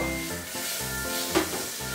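Butter melting in a small heated saucepan, a steady close sizzle and crackle with a brief sharper spatter partway through.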